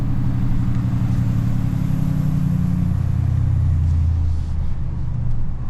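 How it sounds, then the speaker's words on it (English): Deep, loud rumbling exhaust brake on a 2024 6.7 Powerstroke diesel pickup running a 587 whp tune, a sustained low growl that drops in pitch as the truck slows. "Engine brake, exhaust brake."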